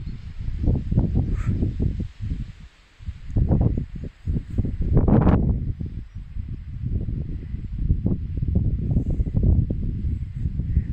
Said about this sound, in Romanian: Vine câte o rafală.